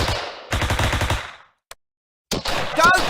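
Rapid machine gun bursts from the Close Combat war game rattle loud and close, a long burst, then a short pop after a pause, then another burst with a faint high tone.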